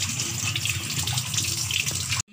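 Water runs from a kitchen tap into a pot in a steady close gush that cuts off abruptly at the end.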